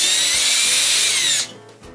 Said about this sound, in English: I need to remove all these brackets here with these screws.